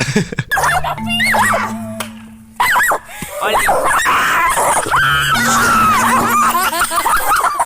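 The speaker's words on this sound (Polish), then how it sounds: "Jaki straszny pies!" A dog yelps and barks in short bursts mixed with whimpers, loud and close, alongside voices and screams in the background of a noisy indoor scene.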